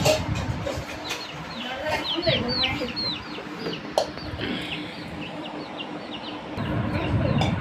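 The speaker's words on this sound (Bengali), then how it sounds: "দেখি মুরগির বাচ্চাটা কী অবস্থা" Many chicks chirp busily with high, rising peeps, layered over a low background rumble and a few clicks.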